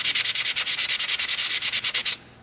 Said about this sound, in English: I'm going to be taking some sandpaper,